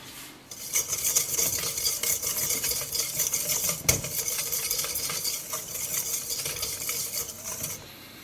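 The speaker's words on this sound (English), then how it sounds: "we're going to whisk this together" A whisk stirs baking powder and salt together in a bowl for herring pancakes, giving steady rapid scratching and light clinking that runs nearly without pause, close and fairly quiet.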